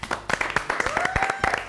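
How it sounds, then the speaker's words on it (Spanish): Studio audience clapping to welcome a grunge band from Bogotá at a university radio live session; a short, close burst of scattered hand claps with a few voices and a whoop mixed in. "Recibamos con un fuerte aplauso a"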